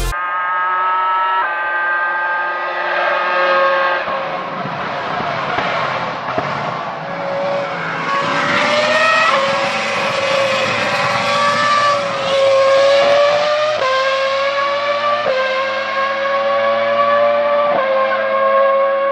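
A race car engine from a Need for Speed style video game screams loud and close, climbing through repeated rising revs with shifts and tire squeal.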